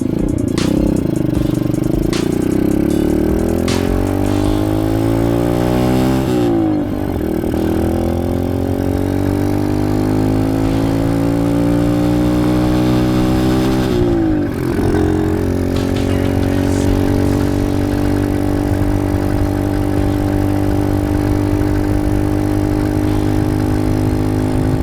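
A lightweight supermoto motorcycle rides on the road, its engine revving up and down through several gear changes with a steady, loud exhaust drone and wind rush throughout.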